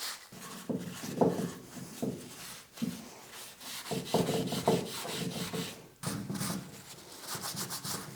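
An old vice being rubbed clean of grease: close, repeated scrubbing and rubbing strokes in uneven bursts, rough and scratchy, with brief pauses between passes.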